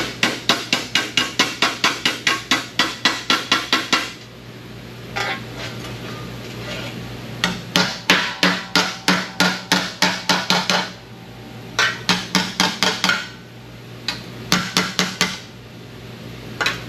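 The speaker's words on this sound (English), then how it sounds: "Hammer that on my T-dolly a little bit better." Loud, close hammer blows on a sheet metal rear fender patch over a T-dolly on a 1956 truck, in quick rhythmic bursts, several series separated by short pauses, with a steady low hum underneath.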